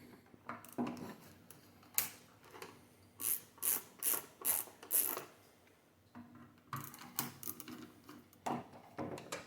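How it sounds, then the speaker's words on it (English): Screws are backed out of the bottom plate of an AI Hydra 26HD amplifier with a ratcheting screwdriver, giving close, quiet bursts of clicking turns in repeated groups separated by short pauses. "we'll take these screws out of these, take the bottom plate off"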